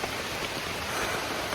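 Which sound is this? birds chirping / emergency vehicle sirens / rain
rain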